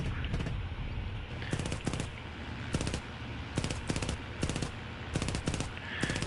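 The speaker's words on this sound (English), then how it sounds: "the single British forward-mounted machine gun that doesn't do squat" A single British forward-mounted machine gun fires in the War Thunder combat game, in short repeated bursts of rapid rattling shots separated by brief pauses, loud and steady over a constant engine drone, with no talk.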